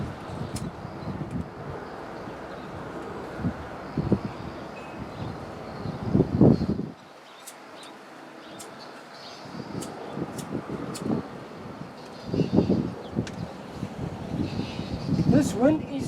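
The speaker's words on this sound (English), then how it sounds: "This wind is not playing with me today. It's even blowing the lighter dead." Strong gusts buffet the microphone outdoors during Land Rover Defender repairs, a rumbling low roar with brief lulls and a quiet gap midway, mixed with a voice talking.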